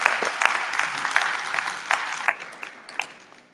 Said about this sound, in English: everyone that is here, should give themselves a round of applause